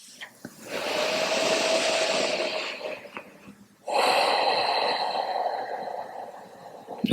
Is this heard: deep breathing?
yes